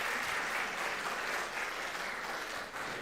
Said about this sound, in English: A warm applause to all of them.